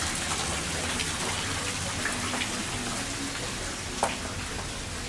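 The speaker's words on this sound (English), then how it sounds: "You might hear the river from up here" Steady broadband rush of a river flowing through a jungle ravine in Bali, heard from a height as a continuous, fairly loud wash with no breaks.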